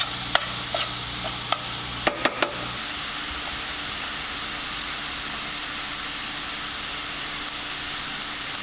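Pork for lo mein frying and sizzling in a hot pan, a steady broadband hiss lasting throughout, with a few sharp clicks and scrapes from stirring near the start.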